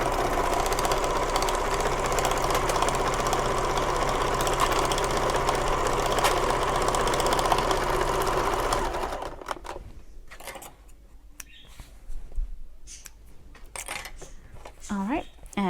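A sewing machine runs steadily, stitching the seam of a shoulder bag for about nine seconds, then stops, leaving quieter handling noises and faint movement.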